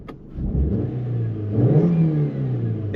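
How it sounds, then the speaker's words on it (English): A 2006 Chevrolet Matiz SE with a 1-litre engine revs up and holds a steady drone, swelling in the middle before settling back. The engine is close and loud, with no talking. "Let you listen to the revs a bit."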